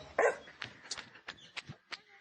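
A dog barking and yipping in a series of short, sharp barks, fairly close but quiet overall, with brief whimpering sounds between barks.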